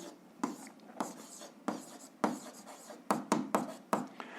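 A pen or pencil writing out an algebra graph on paper, a run of close, soft scratchy strokes arriving in short bursts with brief pauses between them.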